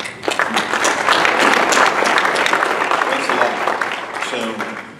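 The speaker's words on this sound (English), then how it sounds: "So you guys give yourselves a round of applause." Sustained audience applause at an intelligence achievement awards ceremony, a dense, steady wash of many hands clapping that holds loud for about five seconds before easing slightly at the end.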